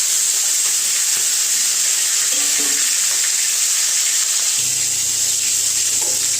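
Hilsa fish frying in mustard oil in a hot wok, giving a steady, close, dense sizzle with a few soft clinks and shifts as the pieces settle, and no talking.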